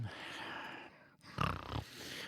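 Heavy, noisy breathing close to the microphone, with a short pause and then a louder snorting exhale.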